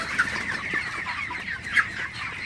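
Several broiler chickens in a poultry house cluck softly and continuously nearby, a murmuring flock sound with a couple of slightly louder clucks standing out.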